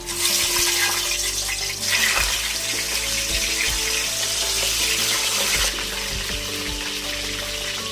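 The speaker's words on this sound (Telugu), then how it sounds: "Oil heat ఎక్కిందండి. మనం ఇప్పుడు ఫిష్ వేసుకుందాం." Fish sizzles and crackles loudly in hot oil, a steady dense frying hiss with occasional pops and surges throughout, no talking.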